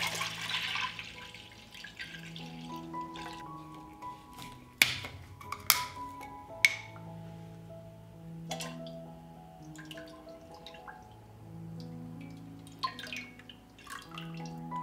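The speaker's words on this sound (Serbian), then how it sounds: "Mleko sipam u jednu dublju šerpu." Milk is poured into a deep cooking pot, a quiet liquid stream with faintly shifting tones, punctuated by a few sharp drips and knocks, close and soft with pauses between.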